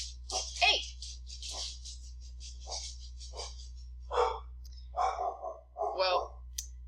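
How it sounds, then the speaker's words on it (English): A small dog named Abby barks at the door in short separate bursts from the middle distance, with brief pauses between them, over a steady low electrical hum. "I don't know if you still hear her barking"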